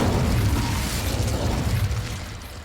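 The fire spell Incendio cast in the game Hogwarts Legacy, a loud, roaring whoosh of flame with deep rumbling that swells and then slowly fades over nearly three seconds.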